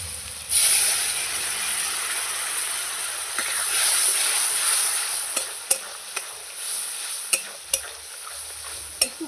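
Spice paste frying in a pan for a soybean dish hisses into a loud, steady sizzle once water is added, with a few sharp spatula scrapes and clinks ringing out near the end.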